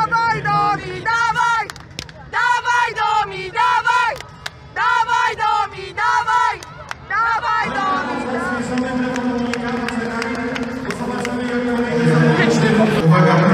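An arena crowd at the Hubert Wagner Memorial in Kraków's Tauron Arena chants in loud rhythmic bursts, then swells into a sustained roar of cheering and applause that grows louder toward the end.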